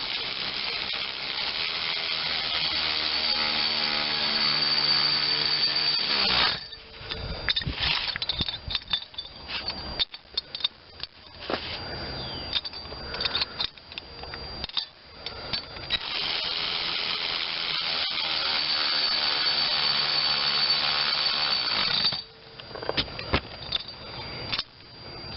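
A socket ratchet drives the cylinder head bolts on a Briggs 16.50 engine from an Ariens snowblower. Long, close runs of rapid ratcheting clicks are broken by pauses, clanks and tool handling.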